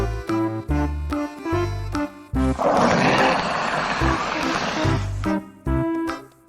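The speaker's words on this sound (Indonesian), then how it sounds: "Komodo." A Komodo dragon gives one sustained, rough, hissing roar lasting about two seconds, loud and close, set between steady music beats.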